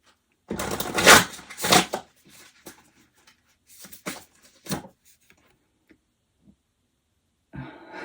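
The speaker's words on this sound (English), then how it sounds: "I'm just going to shuffle one more time." A tarot deck riffled and shuffled a few times up close, bursts of papery flutter followed by softer taps and quiet pauses.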